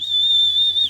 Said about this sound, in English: See how they're getting used to that whistle?